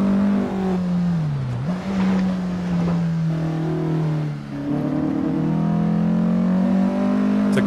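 A race car driven through the technical section of the Deutschlandring track in Assetto Corsa: a steady engine drone that dips briefly as it lifts off, then climbs again and holds a strong, close tone.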